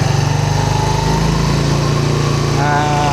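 A Yamaha NMAX Techmax scooter engine fitted with a UMA back pressure muffler runs loud and close at a steady 3,000 RPM, with a fast, even exhaust throb, while someone speaks over it.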